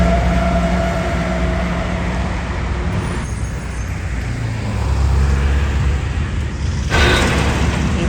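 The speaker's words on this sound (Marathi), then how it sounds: "बघा आपली लोकल लोणावळा" A fast local commuter train to Lonavala passing on a foggy December morning in Pune, a loud steady rumble and roar that shifts in tone as it goes by.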